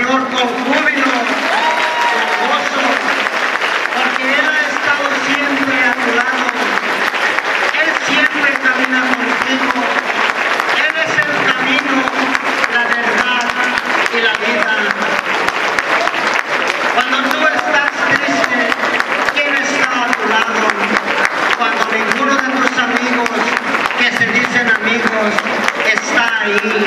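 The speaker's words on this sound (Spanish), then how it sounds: "Un aplauso al Señor con júbilo." A church congregation at a Spanish-language charismatic Catholic holy hour applauds steadily and loudly, with a voice speaking over the sustained clapping throughout.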